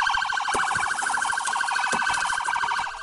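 A police siren wails continuously and loudly, its rapid warbling tone running nonstop, close by.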